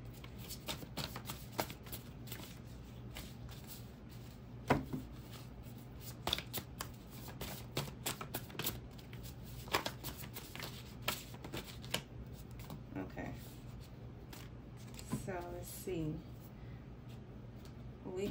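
Tarot cards being shuffled by hand at close range, a long series of quick riffling bursts and soft slaps repeating throughout, with quiet speech now and then.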